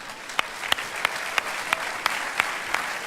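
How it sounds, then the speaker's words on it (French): A church audience applauds a guest speaker in a soft, sustained patter of clapping, with a few sharper, distinct claps standing out at a roughly regular pace above the crowd. "On peut encore une fois l'applaudir."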